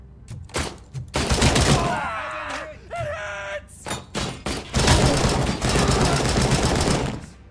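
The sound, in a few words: rifle gunfire in the video game RoboCop: Rogue City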